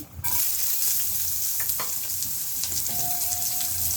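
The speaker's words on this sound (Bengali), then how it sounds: "তেলটা গরম হয়ে গেছে কয়েকটা চিড়ে দিয়ে দিই কয়েকটা পেঁয়াজ করছি" Flattened rice and onions fry in hot oil, a steady loud sizzle running throughout with a few soft scrapes of stirring and a brief tone near the end, no talking.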